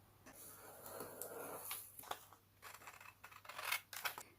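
Scissors snip through waste cardboard in a short run of crisp cuts, a longer rasping slice early on followed by quick separate snips, close and fairly quiet with no talking.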